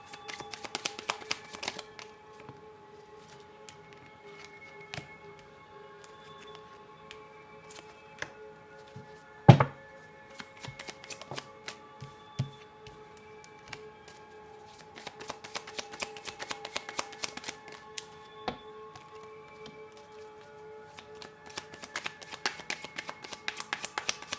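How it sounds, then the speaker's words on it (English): Tarot cards are handled and shuffled close by, with a run of soft riffles and flicks, one sharp knock midway, and then busier shuffling toward the end. "I'm just getting the cards out for you."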